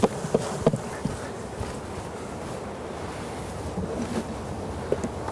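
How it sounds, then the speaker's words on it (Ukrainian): Honeybees buzz as they are shaken off a hive frame during a colony inspection, a dense, steady hum with a few soft knocks near the start and no voices. "Ми зараз е, струсимо з неї теж бджіл."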